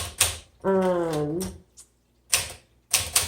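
A 1958 Smith Corona Sterling typewriter is struck in a few sharp, close clacks, with a drawn-out mechanical zip between the keystrokes, loud and clear against near silence.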